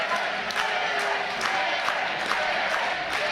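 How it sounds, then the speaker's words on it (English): A wrestling crowd at an Eric Young match cheers and roars steadily throughout, a dense wash of voices with occasional louder swells and shouts. "listen to this crowd come alive for Eric Young"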